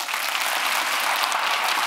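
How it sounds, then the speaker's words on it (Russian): An audience applauds an orchestra and the Bitrix24 team at a business talk: dense, steady clapping fills the whole stretch at a constant level, with no voices over it. "Давайте им все похлопаем."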